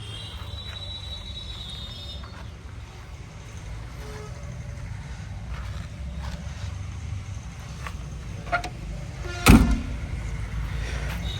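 Rear seats of a 2018 Mahindra Bolero Power+ SLE 7-seater diesel are folded down. A low cabin hum carries soft handling noises, then a single sharp mechanical clunk comes near the end.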